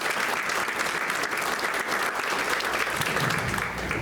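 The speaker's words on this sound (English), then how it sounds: "Give somebody a round of applause" Steady, full applause from an audience at a conference event, close and sustained throughout with no speech over it.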